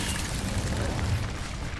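Incendio fire spell cast in a Harry Potter video game, a steady loud roaring whoosh of flame that holds without break for about two seconds.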